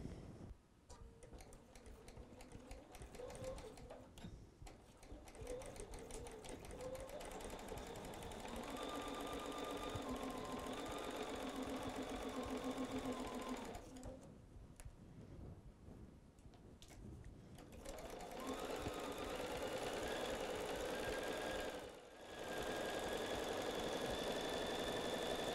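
A sewing machine stitches a half-inch seam on a fabric shopper tote, running in a steady, close, rapid mechanical chatter that stops briefly twice before resuming.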